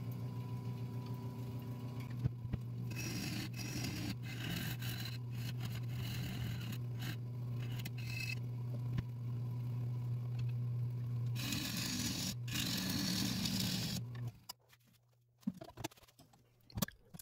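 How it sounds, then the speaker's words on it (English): Wood lathe spinning a big sissoo live edge bowl at about 680 RPM, a steady low motor hum with intermittent ticks and scraping from the tool, fading to near-quiet at the end. "Finally able to turn the speed of the lathe up a little bit"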